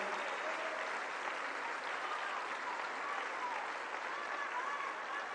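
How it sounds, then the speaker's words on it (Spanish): A large crowd at a public government rally in Zapopan, Jalisco applauds for the Mexican government cabinet, dense steady clapping that stays loud and unbroken throughout, with faint voices mixed in. "quiero un aplauso muy fuerte para todo el gabinete del Gobierno de México"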